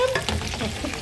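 Ribs and onions fry in oil, a steady broadband sizzle running close and continuous with faint stirring scrapes, no voices.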